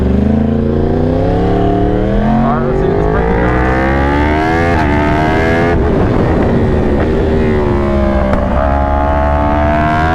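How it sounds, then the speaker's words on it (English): A car passes close by a 2021 Yamaha R1 sport motorcycle on the road, the bike's engine droning and shifting pitch loudly throughout while wind roars and a voice speaks over it. "All right, now we have a car."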